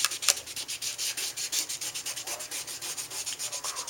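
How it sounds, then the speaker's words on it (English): A tool rubbed back and forth over a stamped image on card stock during card making, a close, steady series of scratchy rubbing strokes in an even rhythm, with no talk over it. "we're just going to rub this over the stamped image and surrounding areas"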